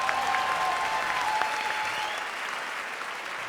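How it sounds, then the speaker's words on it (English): A large convention crowd at a Comic-Con panel in San Diego applauds the Supernatural writing staff, a loud sustained roar of clapping that holds steady and eases slightly toward the end. "they deserve a big round of applause also"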